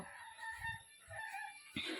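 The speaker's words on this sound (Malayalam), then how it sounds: "നമ്മുടെ കോഴിക്കുട്ടി ഇങ്ങ് പുറത്ത് നിൽക്കുന്നുണ്ട് കേട്ടോ" A chicken outside a house gives a few short clucks and soft calls close by, separated by brief pauses against a quiet background.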